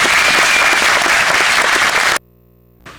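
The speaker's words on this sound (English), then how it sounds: "Let's give this group a round of applause." A school awards-day audience claps loudly and steadily for just over two seconds, then the sound cuts off abruptly into near silence before a faint burst returns at the very end.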